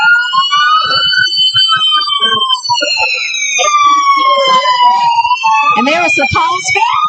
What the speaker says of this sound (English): They've got 2 trucks in the parade. That's wonderful. They've got the sirens going,